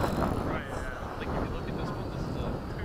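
Military jets from a formation of a MiG-21, F-104 and BAE Hawk taxi out at an airfield, giving a dense, steady roar with a faint rising whine. Voices talk near the microphone.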